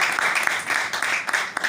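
A congregation at a church service claps in steady, pulsing applause for the full stretch, moderately loud and fairly close, with no voices standing out.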